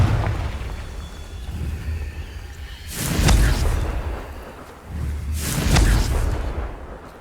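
Two fiery Confringo spell blasts from the game Hogwarts Legacy, each a deep booming burst that swells and fades over a couple of seconds, over a low rumbling backdrop.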